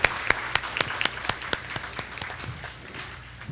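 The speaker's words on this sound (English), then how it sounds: "Let's give them a round of applause." Applause from an audience for debate presenters, a short burst of sharp, scattered claps, fairly close, thinning out and fading toward the end.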